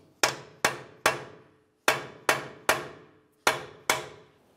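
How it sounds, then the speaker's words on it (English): Eight sharp metallic blows from a hammer and punch strike close by in uneven groups, each ringing briefly before the next, driving a 2005-2010 Dodge Dakota axle shaft free from its wheel bearing. "Use a hammer and punch to break the axle free from the wheel bearing."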